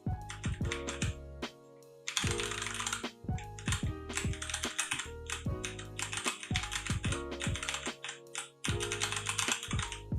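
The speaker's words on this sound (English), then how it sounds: "I'm gonna clack on the keyboard a little bit so you guys can hear it" Steady mechanical keyboard typing without O-rings fitted, close and crisp, with rapid clacky keystrokes in bursts and brief pauses, no voices.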